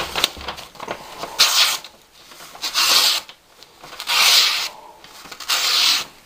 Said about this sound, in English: I can sharpen this thing just razor sharp with the most minimal of effort.